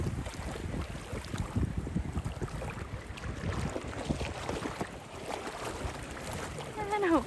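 A boat runs across open water with a steady churning wash and heavy wind buffeting the microphone, dolphins swimming nearby, with a person talking faintly under the noise.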